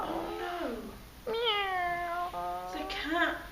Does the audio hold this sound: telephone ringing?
no